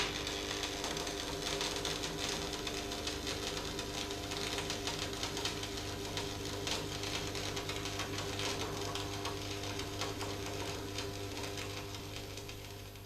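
Electric arc welding on 6mm steel with an electrode held at 45 degrees, a continuous loud crackling buzz that holds steady for about thirteen seconds, easing slightly at the end.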